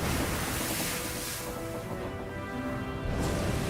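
Stormy Southern Ocean waves churn under persistent wind at 60 degrees south, a dense, continuous roar of rough surf and gusts that swells, eases briefly, then surges again, with no voices.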